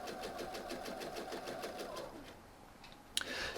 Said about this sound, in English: It's interlocked, got my finger on it, and now I can just continue sewing.